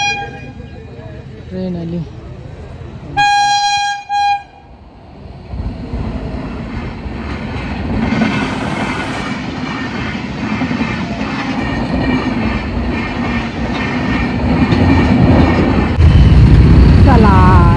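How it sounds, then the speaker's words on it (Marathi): A train horn blasts, then a train rumbles and clatters steadily past nearby at a gated railway crossing, growing louder toward the end, with a crowd of people talking around. "ट्रेन आली."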